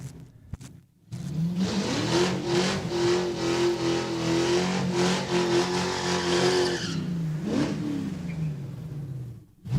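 At a drag raceway, a race car roars off the line with a rising, sustained engine howl and tire noise, loud and fairly close for several seconds before fading, with near silence before and after.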